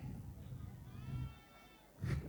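A voice imitates a sheep's bleat, a wavering nasal "baa" with a quick echo of it at the end, over light crowd murmur.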